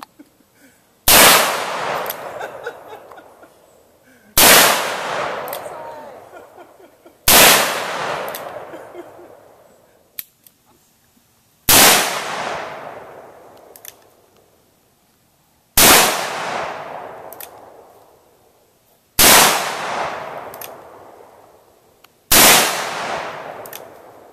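Handgun shots at an outdoor range, seven loud single reports spaced about three to four seconds apart, each ringing out with a long decaying echo.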